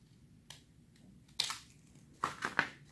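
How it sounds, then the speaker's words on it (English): Scissors trimming the leftover edges of a paper nativity ornament cut in a few sharp snips: one light cut, a louder one, then a quick cluster of three crisp snips near the end, close and otherwise quiet. "trim off the edges of whatever's left over."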